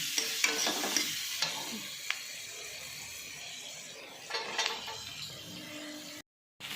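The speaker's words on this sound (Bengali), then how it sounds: "পেঁয়াজগুলো ভাজা ভাজা করে নিচ্ছি" Chopped onions fry in a pan for butter chicken, giving a steady close sizzle broken by the scrape and clatter of stirring. The sound cuts to brief silence just before the end.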